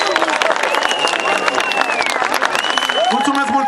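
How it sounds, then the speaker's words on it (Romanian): A theatre audience applauds comedian Laurențiu Vlad, with clapping and crowd noise running under a loud voice speaking over it. "aplauze pentru Laurențiu Vlad"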